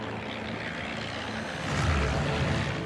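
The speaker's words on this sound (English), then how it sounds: "a new wave of British planes had just taken off, despite the terrible weather conditions." British Swordfish biplanes take off on a stormy night, their propeller engines roaring as a continuous loud drone that swells near the end, with no voices.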